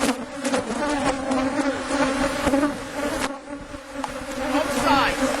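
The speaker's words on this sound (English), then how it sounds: "We got bees boiling out" Honey bees pour out of an opened hive box in a dense, close buzzing swarm, a steady droning hum with individual bees zipping past the microphone.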